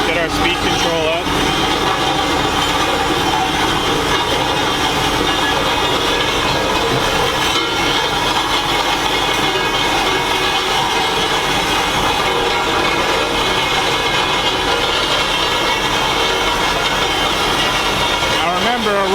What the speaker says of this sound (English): a roller has absolutely no suspension, so this is going to be a pretty rough ride all the way over there